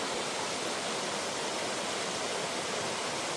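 Water pours over a small check dam at Naneghat, a dense steady rushing hiss with no break, fairly close and even.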